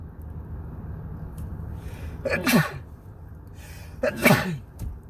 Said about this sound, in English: Every time I start talking, y'all, I start sneezing.